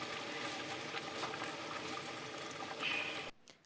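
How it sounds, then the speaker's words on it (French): Tomato poured into a hot cooking pot for a Cameroonian pork and raw-vegetable sauce, giving a steady bubbling, liquid wash for about three seconds, swelling briefly near the end before cutting off to quiet. "On va verser la tomate."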